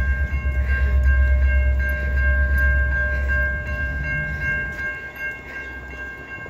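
Train rolling past near an old station and depot at night with crossing gates down, a loud close rumble with a steady high tonal ring from the crossing bell or horn, fading gradually.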